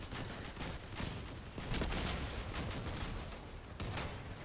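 Repeated booming cannon shots fire in rapid succession over a dense rumble, loud and continuous like a heavy barrage, in the video game Crossout Mobile.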